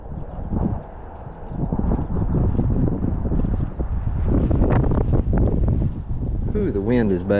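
Gusty wind buffets the microphone outdoors near a boat, a rough, rumbling roar that surges and swells throughout, loud and close, with a short whistling sound toward the end.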